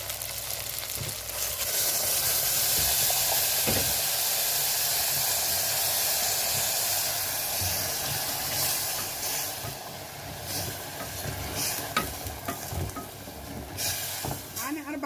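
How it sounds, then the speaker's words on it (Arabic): Steady broadband sizzling and hissing of rice sautéing with onion in a hot pan, continuous throughout with occasional stirring clinks and faint background voices. "اشوحه في قلب البصل وبعدين هسقيه بالميه بتاعت الكاليماري"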